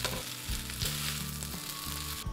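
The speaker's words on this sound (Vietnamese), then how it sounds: "Xong rồi mình cho một ít hành, ít tỏi vào đây, mình đảo lên." Onion and garlic hiss and sizzle loudly as they are stirred with meat in a hot pan, a steady close frying crackle broken by the repeated scrape of a spatula, with no voices.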